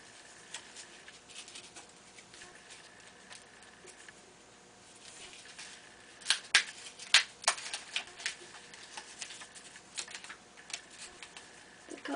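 Faint snipping of scissors cutting through card stock for handmade greeting cards, a cluster of small crisp cuts in the middle over quiet room noise, then lighter scattered sounds of handling.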